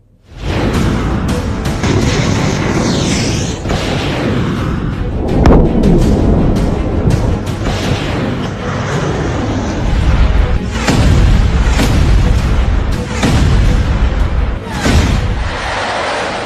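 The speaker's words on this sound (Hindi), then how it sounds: "तेल अवीव पर खुर्रम शहर मिसाइलें गिर रही हैं।" Khorramshahr missiles and cluster bombs exploding over Tel Aviv, a continuous loud rumble with repeated heavy booms and thuds, dense and roaring throughout.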